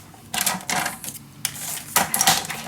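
Paper being trimmed to two inches wide for a handmade mini album, giving a few short bursts of cutting and sliding strokes with quiet pauses in between.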